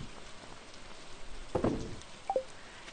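Rain in the Stardew Valley video game patters faintly as a soft steady hiss, with a couple of brief louder splashy ticks partway through and no talk.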